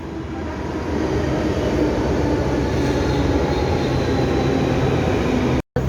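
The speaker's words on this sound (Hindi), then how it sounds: "अब हम सरिता विहार मेट्रो स्टेशन पर हैं हम अभी, और हमारी मेट्रो आ चुकी है।" A Delhi Metro train pulls into Sarita Vihar station with a broad, steady rumble and hiss that builds early on and stays loud. The sound drops out briefly near the end.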